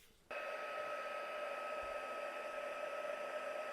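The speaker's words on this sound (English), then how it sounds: "going to dry that layer off with the heat gun" A heat gun switches on and blows steadily over a watercolor paint layer, a sudden start into a constant, close whirring hiss with a faint high whine that holds without break.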